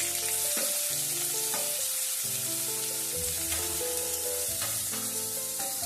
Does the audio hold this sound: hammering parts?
no